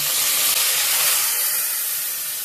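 Grated onion sizzles in hot oil with two dried red chillies and curry leaves, a steady close hiss with no break and nobody talking over it.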